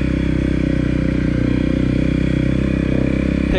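A 2018 Honda CRF250L motorcycle riding off road, its single-cylinder engine thrumming steadily at a constant pace with faint clatter over rough ground, recorded from the rider's position.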